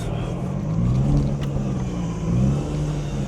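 A Nissan G35 car rolling slowly as it pulls into a house, a steady low engine drone with a faint rise and fall in pitch, close and continuous.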